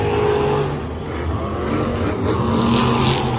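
Monster trucks race head-to-head at a Monster Jam bracket event in Orlando, a loud continuous engine roar that swells and surges throughout, with no voices over it.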